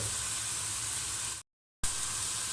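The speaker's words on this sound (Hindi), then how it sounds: "चने डालकर इसे 2 से 3 मिनट आपने अच्छी तरह पका लेना, मीडियम टू लो आंच पर" Boiled chickpeas frying in a pan over medium-low heat give a steady, close sizzle with a constant hiss, broken by one short silent gap before the sizzling resumes.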